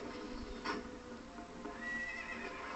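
A horse in the Zelda: Twilight Princess video game whinnies once, briefly and clearly, and its hooves clip-clop steadily underneath, all fairly quiet and without any talking.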